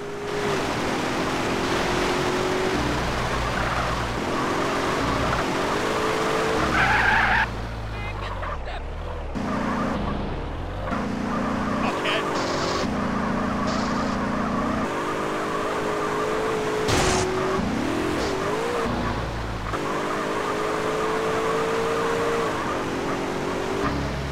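Car driving in GTA San Andreas, a steady engine drone that shifts pitch as the vehicle speeds up and slows, with a burst of other game noise partway through, no talk.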